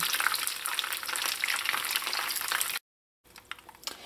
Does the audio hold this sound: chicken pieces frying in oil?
yes